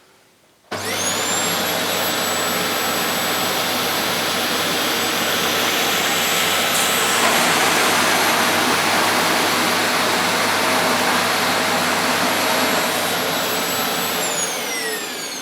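A Dyson DC28c multi-floor cylinder vacuum cleaner switches on at maximum power and runs with a loud, steady, high-pitched roaring whine throughout. The tone shifts slightly partway through, then begins to wind down near the end.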